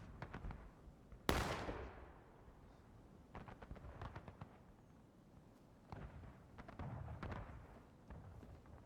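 Civil War-era musket volley in War of Rights: one sharp, loud crack rings out, then scattered rifle shots pop and rumble at a distance across the field, with no talk over them.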